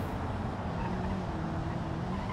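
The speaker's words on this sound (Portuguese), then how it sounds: "Tá superaquecendo o motor." An overheating car engine in the BeamNG.Drive driving game drones loudly and steadily with a rough, continuous roar, with no talk.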